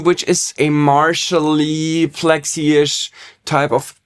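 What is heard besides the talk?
No everyday noises stand out.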